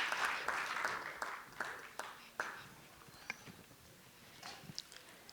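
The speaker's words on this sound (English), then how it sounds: "Another round of applause for our panelists." Applause from the audience for panelists at a climate and environment breakout session, fairly faint clapping that tapers off into a few scattered claps.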